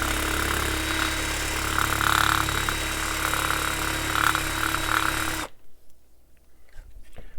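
A power tool reams out a stripped screw head, a steady loud whirring grind running for about five seconds before cutting off abruptly, followed by faint handling sounds.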